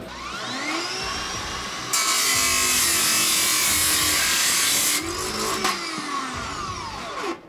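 A Makita 18V X2 cordless brushless 14-inch chop saw whines up, then bites loudly through two 20-gauge metal studs in a harsh sustained cut of about three seconds before spinning down with its motor whine falling away.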